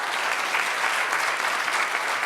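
Audience applause at a banquet, a dense steady wash of clapping from a large crowd that holds evenly throughout with no voices on top.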